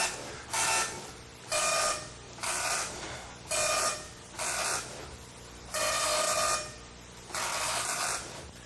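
An MSX computer's printer printing typed text, a buzzy dot-matrix style rasp repeating in bursts of about a second with short pauses as each line prints, fairly quiet and steady.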